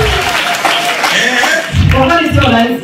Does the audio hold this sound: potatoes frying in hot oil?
no